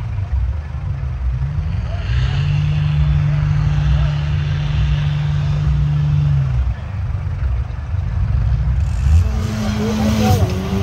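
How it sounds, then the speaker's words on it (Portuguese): Ford Pampa pickup with its original fuel-injected engine, Toyota gearbox and Cherokee axle labouring along a heavy dark-mud trail, a loud low steady drone that holds, dips briefly, then rises again as it revs. "E a Pampa com motor original, injeção full tech, câmbio de Toyota e eixo de Cherokee, vai firme."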